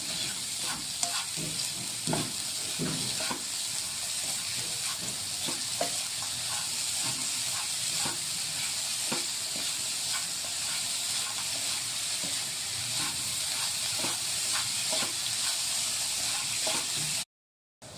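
Jaggery and coconut stuffing for sweet kadubu is stirred in a pan, giving a steady sizzle and hiss with repeated scraping stirs throughout, fairly close and continuous with no talking.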